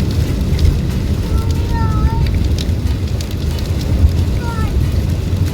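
Heavy rain heard from inside a car makes a steady, muffled drumming over a low rumble, with faint voices talking beneath the downpour.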